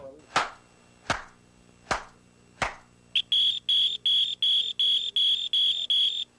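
Four sharp, evenly spaced hand claps, then a Beep and Keep Key Finder answers with a rapid run of about ten loud, high electronic chirping beeps, close by and alone.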